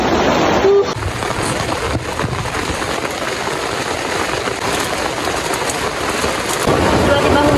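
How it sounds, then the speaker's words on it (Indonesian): Heavy rain pours at a tea-plantation campsite on Mount Cilik, a steady dense wash of drops drumming close by and continuing unbroken throughout. "ternyata hujan deras, nggak nyangka ya"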